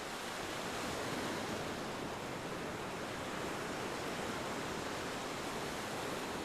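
Ocean surf rolls continuously on a video game loading screen, a faint, steady wash of broadband wave noise with no distinct breaks or voices.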